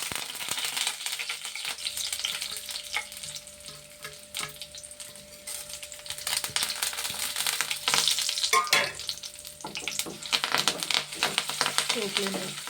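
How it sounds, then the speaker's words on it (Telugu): Dried red chillies and tempering spices frying in oil, a continuous crackling sizzle with scattered pops and scrapes of stirring, close up, with brief faint voices in the background. "బాగా వేపుకోవాలండి ఎండుమిరగాయలు"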